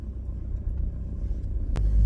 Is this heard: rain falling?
no